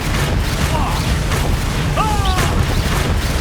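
A Confringo blast spell booms during a Hogwarts Legacy battle, a loud burst that sits inside a steady roar of combat noise, with brief whistling magical tones over it.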